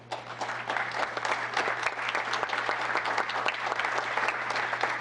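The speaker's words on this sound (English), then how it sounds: "Can we have another round of applause?" A town council meeting audience gives another round of applause for an award recipient, dense continuous clapping throughout at moderate volume with no speech.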